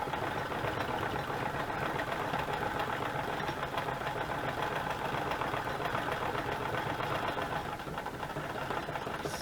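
A sewing machine stitching a chenille cover, a dense, continuous mechanical whir and rapid needle clatter running steadily and fairly close, without pauses or talk.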